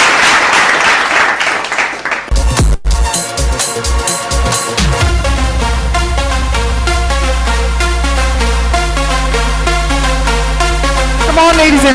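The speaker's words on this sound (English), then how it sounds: "let that applause continue" An awards-ceremony audience claps in a dense, loud burst for about two seconds, then the applause gives way to loud stage music with a steady bass beat.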